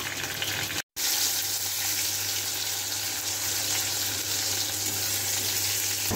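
A fish head fries with taro leaves in a pan, giving a continuous loud sizzling hiss with a low steady hum underneath and one brief dropout near the start.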